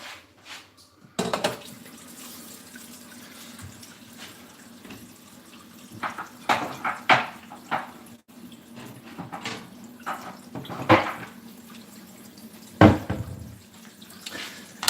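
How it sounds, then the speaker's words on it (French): Hot tap water runs into a cooking pot in a home kitchen, with an uneven splashing flow and clunks of the pot being handled, close and fairly loud, no talking. "Et maintenant, je vais remplir ça d'eau chaude."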